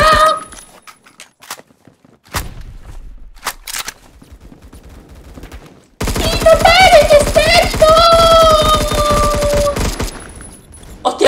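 Rapid automatic gunfire in a Roblox shooter, scattered sharp shots at first, then a dense, loud burst of fire with whistling, ringing tones lasting several seconds before trailing off.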